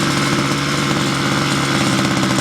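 A Ryobi Expand-It gas powerhead runs steadily just after a cold start, a loud, close, continuous buzzing engine drone with a rough, even pulse throughout.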